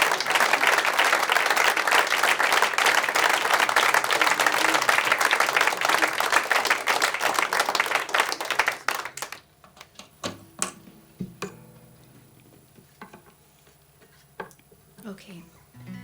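Dense audience clapping at an intimate concert session rings out loud and steady for about nine seconds, then stops abruptly, leaving a few scattered claps and quiet room noise.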